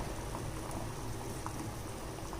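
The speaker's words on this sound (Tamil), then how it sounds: "இப்போ பாருங்கள், கிழங்கு கொதிச்சிட்ருக்கு" Water with yam pieces bubbles and churns at a steady rolling boil, soft and close, with no voices.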